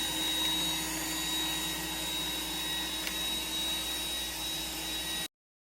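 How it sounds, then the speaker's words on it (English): iRobot Roomba 985 robot vacuum working over dirty carpet with ground-in pet hair, a steady close whirring motor hum with a faint high whine, continuous and unbroken before cutting off abruptly near the end. "what the robot's going to do is if it senses a lot of dirt in a certain area, it will go over that same area 2 or 3 times"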